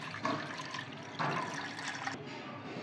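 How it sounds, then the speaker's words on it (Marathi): Water being poured into kokum (amsul) extract for kokum saar, a continuous splashing pour with two surges, close and fairly loud, with no voices. "आता हा जो आमसुलाचा अर्क आहे त्यात आपल्याला 3 वाट्या पाणी टाकून घ्यायचं आहे।"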